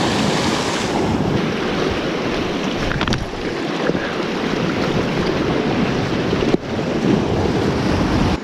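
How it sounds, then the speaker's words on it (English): Ocean swell and waves breaking over rough rocky ground with boulders and a reef, a loud continuous wash of surf mixed with heavy wind buffeting the microphone, one sharp knock near the end. "So I'm just going to wait for this swell to die down a bit and hopefully get onto there."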